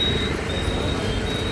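Steady road traffic drones through a busy Diwali market street, a dense low rumble of passing vehicles with a faint high whine running over it, continuous and fairly close.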